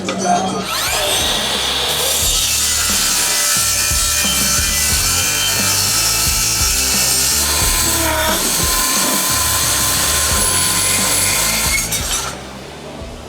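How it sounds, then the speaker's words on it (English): A saw blade cuts a half-inch-thick, one-foot-long steel beam flange with a loud, continuous metallic whine that grinds steadily for over ten seconds and then stops abruptly. "The flange we're gonna rip down, it's 1 foot long, 1/2 inch thickness."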